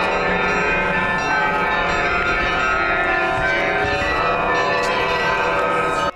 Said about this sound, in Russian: Ровно в полночь праздничный перезвон, возвещающий о великой радости, прозвучал во всех храмах муниципалитета